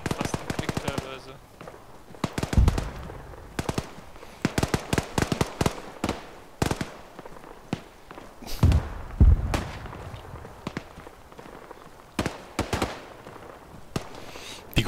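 Gunfire in the military shooter game ArmA 3 crackles in rapid sharp bursts and single shots throughout, some loud and close, others fainter and distant, with occasional thuds and a voice speaking at times.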